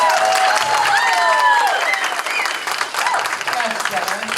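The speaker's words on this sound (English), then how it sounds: "how about a round for the bride and groom?" Wedding guests applaud the bride and groom with loud sustained clapping, scattered cheers and whoops rising over the crowd before easing off.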